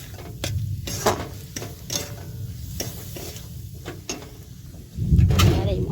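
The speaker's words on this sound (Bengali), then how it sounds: "দেখুন মশলার সাথে ময়দাটাও কষে নিচ্ছি।" Spice masala and about two spoonfuls of flour frying in a pan for a chicken filling, with scraping stirs and clinks repeating through a steady low sizzle that swells louder near the end.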